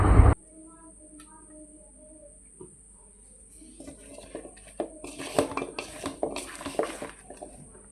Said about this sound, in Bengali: এখন ময়দা মিক্স,